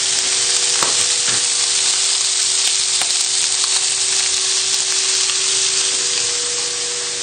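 A loud, steady sizzle of sausages frying in a pan, continuous crackling with occasional pops and no voices.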